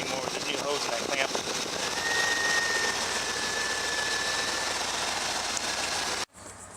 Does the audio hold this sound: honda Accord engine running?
yes